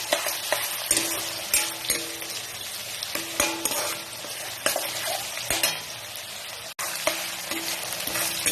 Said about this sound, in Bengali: এবার এর মধ্যে দিয়ে দিচ্ছি রসুন, পেঁয়াজ আর কাঁচা লঙ্কা, একটু ভেজে